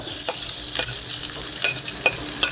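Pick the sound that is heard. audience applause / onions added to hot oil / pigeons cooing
onions added to hot oil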